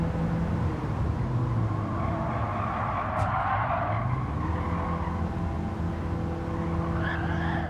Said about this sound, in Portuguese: estás a puxar a travão de mão, Rick?